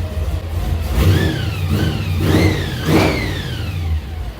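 A 1955 Chevy engine revs sharply three times in quick succession, each burst rising then dropping back toward a low idle, close by.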